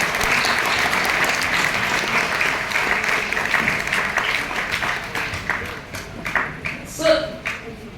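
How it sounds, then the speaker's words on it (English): A room of parents and children at an art class graduation breaks into a round of applause, loud and dense at first, then thinning into scattered individual claps near the end. "So can we have a big round of applause for all of you,"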